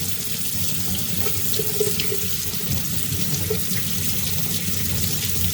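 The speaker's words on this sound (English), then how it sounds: "So I start with cold water. So I'm going to turn that on." Cold water runs steadily from a utility sink faucet, a close, continuous splashing gush that stays even throughout with no talking.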